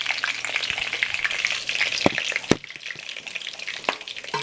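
Vegan taco shells frying in hot oil, a close, steady crackling sizzle with scattered sharp pops and a few louder bursts.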